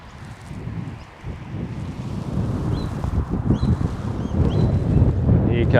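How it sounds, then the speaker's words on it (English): Outdoor wind buffeting a microphone, a rough low rumble that swells and gusts, growing louder toward the end. "Here comes the wind."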